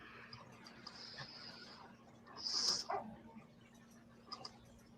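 A single dog barks sharply in the middle, with a few softer yips around it, over a low hum and faint background noise.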